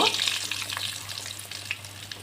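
Chicken pieces for fried chicken hit lightly heated oil, a close, bright crackling sizzle that swells at the start and then settles into a steady fry with sporadic pops.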